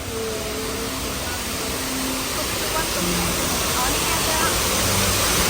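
A 15-metre waterfall in Chiang Rai, Thailand, gives a steady, broad roar of falling water that fills the whole stretch at an even level, with no talking.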